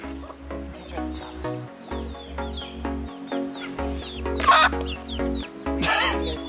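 A chicken clucks repeatedly with short, chirpy calls outdoors in Kauai near a waterfall. A steady low hum runs underneath, and a couple of brief bursts of rustling noise break in.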